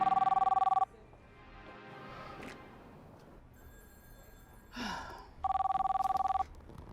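A telephone rings in two loud, steady electronic bursts, one at the start and one near the end, with quiet room tone and a soft rustle between them.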